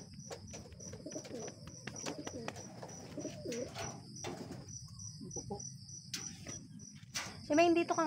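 Racing pigeons coo softly outdoors in the rain, the low cooing running steadily under scattered knocks and taps, with a high insect-like whine throughout and a brief louder chirping call near the end.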